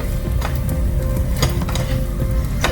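An egg omelette is cut into strips right in a hot pan, giving a steady close sizzle with a few light clicks and taps of the utensil against the pan.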